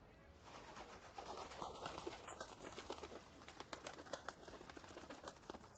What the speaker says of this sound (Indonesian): Lihat burung pos sudah kembali.